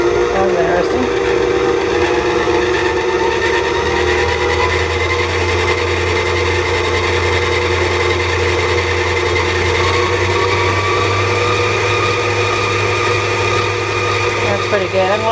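An electric mixer whirs steadily as it whips heavy cream toward butter, a continuous motor drone with a faint rising whine, loud and close throughout.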